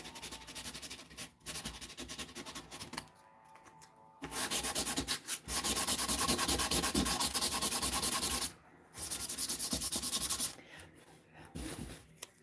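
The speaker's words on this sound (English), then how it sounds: "I might just sand the whole piece and see where I'm at there" Sandpaper rubs over a small hand-whittled wood piece in steady close scratchy strokes, continuous for several seconds with a couple of short pauses between passes.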